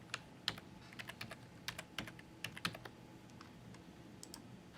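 Username and password typed on a computer keyboard, a faint scatter of irregular clicking keystrokes in short bursts, close up with a quiet background hum.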